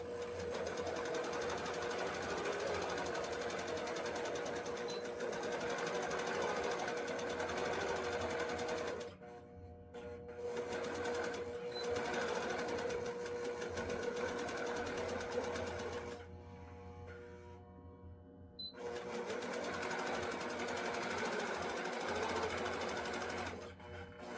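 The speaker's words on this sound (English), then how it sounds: "needle down and press the green button and start sewing" A sewing machine runs continuously while basting a quilt, with a steady mechanical whir interrupted by two short pauses before stitching resumes.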